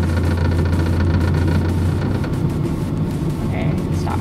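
A manual stick-shift car's engine as the driver lets off the clutch, a steady low rumbling hum heard from inside the cabin, continuous and fairly loud with a faint voice in the background.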